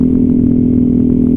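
A Yamaha Aerox scooter engine runs steadily up close, its exhaust giving a loud, even drone with a rough, pulsing low rumble and no change in pitch.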